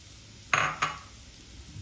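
Puffed rice tipped into a pan of spiced, turmeric-tinted upma base and stirred, giving two crisp rattling, clinking bursts close up with quiet room tone between and after.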